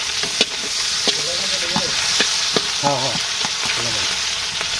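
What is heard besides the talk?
fish frying in a pan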